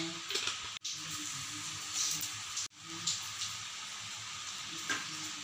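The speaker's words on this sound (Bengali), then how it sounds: "আবার একটু তেল দিয়ে দেব কড়াইতে।" Oil sizzling and crackling in a wok-style pan while cooking pabda fish curry, a steady close hiss running throughout with two brief dropouts and a few faint clinks.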